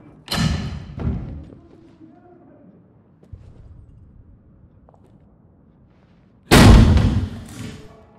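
Explosions from a bomb in the Six Days in Fallujah war game: a pair of loud close booms at the start, a quieter rumbling stretch, then one more heavy blast that fades out slowly.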